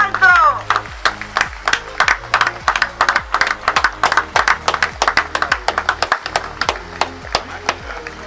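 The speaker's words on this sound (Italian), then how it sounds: "un grandissimo applauso per il altro" A small group claps for a participant at a lakeside trout fishing competition, with distinct, fairly loud hand claps in an uneven rhythm throughout and a brief voice at the start.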